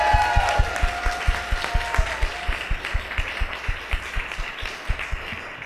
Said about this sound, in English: so a huge round of applause for them as well.